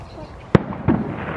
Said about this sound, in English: it's firework night, but he doesn't seem to be that worried about the fireworks